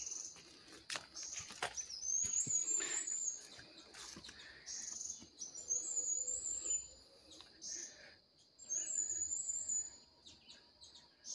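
Birds sing in a forest with good canopy cover, giving several short high chirping phrases spaced a few seconds apart over a soft, rustling background.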